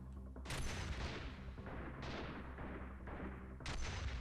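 Grenade explosions in the tactical shooter Freeman Guerrilla Warfare come as a string of heavy booming blasts, with several sharp onsets and rumbling decays, mixed with distant gunfire and fairly faint.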